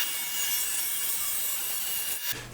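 A saw cuts through a wooden desk board with a continuous, close rasping rhythm that runs for over two seconds, then stops abruptly as the cut ends.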